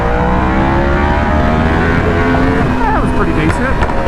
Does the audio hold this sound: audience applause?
no